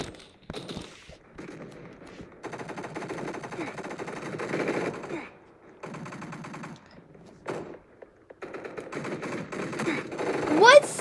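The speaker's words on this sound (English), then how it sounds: "I'm getting my Owen gun" An Owen gun fires in a video game, with several bursts of rapid automatic fire broken by short pauses, moderately loud and growing stronger toward the end.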